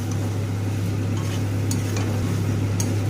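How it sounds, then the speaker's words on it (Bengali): Fried boiled potatoes are stirred with spices in a pan for a Bengali capsicum aloo dum, with a steady oily sizzle and occasional light scrapes and clinks of the spoon, close and continuous, without talk. "ভালো করে আলুটাকে মশলার সাথে কষিয়ে নেব।"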